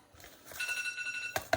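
A phone alarm sounds to signal that a 3D print has finished, a short sustained electronic tone with harmonic bands followed by two brief bright bursts, moderately loud with no talking.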